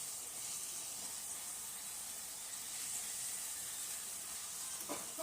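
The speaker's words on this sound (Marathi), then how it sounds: "पुऱ्या सर्व भाजून घ्यायच्या आहेत आणि तेलात पुरी सोडली की त्याला हळू असं दाबून घ्यायचं" Puris deep-frying in hot oil, a continuous bright sizzle and hiss that stays steady throughout, close and fairly quiet, with a faint scrape near the end.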